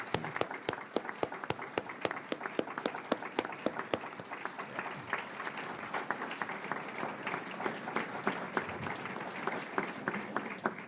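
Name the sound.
applause for the grant writers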